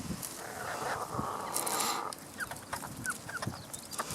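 Young chickens hatched from a backyard flock cluck and peep softly nearby in short scattered calls, with a brief longer call midway over faint background noise.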